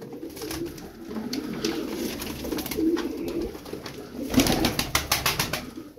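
Crested tumbler pigeons in a loft coo repeatedly in low, rolling calls, with a busier patch of louder cooing and rustling near the end.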